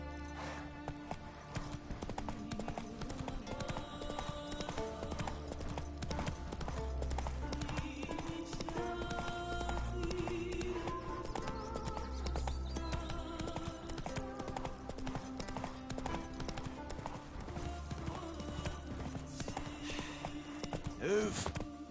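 A horse in The Witcher 3 video game trots with steady hoof clip-clops throughout, giving an occasional neigh, while a voice talks over the hoofbeats.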